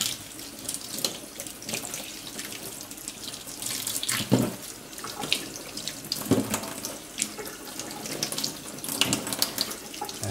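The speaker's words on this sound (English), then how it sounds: "Now our next thing to do with those is give them a wash and dry them off." Running kitchen tap water splashes steadily into a sink while gherkins are washed under it, a continuous near rush with a few louder splashes as the cucumbers are handled, no talk.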